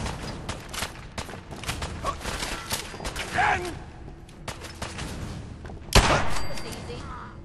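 Gunfire rings out in Fallout 4 as a series of scattered shots and thuds during combat, with one sharp, loud blast standing out near the end, while voices shout over the action.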